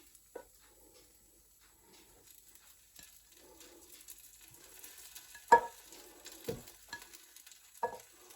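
Faint sizzling from chicken pieces frying, quiet overall, broken by a few soft scrapes and pops.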